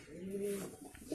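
A Kalsira pigeon from an old bloodline gives a single drawn-out low coo, close and fairly quiet, followed by a few softer murmurs.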